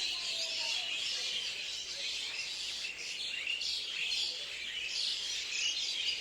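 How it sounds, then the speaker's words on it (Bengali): A bamboo tree full of birds at nightfall gives off a constant, thick wall of high twittering and chirps, close and loud, with no voices over it. "সন্ধে যেমনি হয়ে আসছে সঙ্গে সঙ্গে মিচির কিচির মিচির শব্দ"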